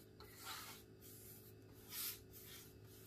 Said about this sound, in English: So when you spray the water